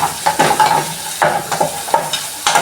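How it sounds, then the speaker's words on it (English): Beef and onions fry in a pan while being stirred, with loud, close scraping strokes repeating every half second or so over a constant sizzle. "You mix it so it can cook, the meat can cook again, and the onions."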